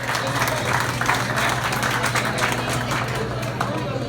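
An audience at a Houston campaign event applauds in a steady wash of clapping, with crowd voices and talk mixed in.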